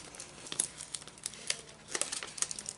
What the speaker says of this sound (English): I'm going to peel this plastic piece off